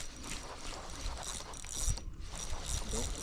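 A fishing reel clicks and ratchets in quick, uneven bursts while a rainbow trout is played in Arkansas, close and fairly quiet, with faint rustling between the cranks.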